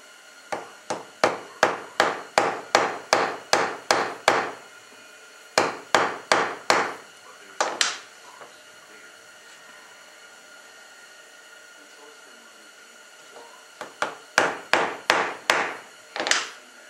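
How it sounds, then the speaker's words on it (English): A hammer pings the top of a small screw to flatten burrs: sharp metallic taps in quick rhythmic bursts, a dozen or so strikes at a time, then pauses before the next flurry; close and crisp. "I'm going to take this hammer right here and just ping the top of it."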